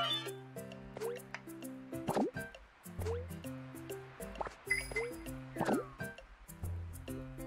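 Coconut water being harvested in a Nintendo Switch game demo, heard as repeated cartoonish liquid plops, drips and squishes over bouncy game music.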